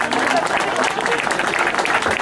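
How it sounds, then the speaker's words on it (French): Spectators at a cycling race podium ceremony clap for a stage winner, a continuous patter of applause running under a loud voice over a public address system. "Merci de l'applaudir très très fort s'il vous plaît."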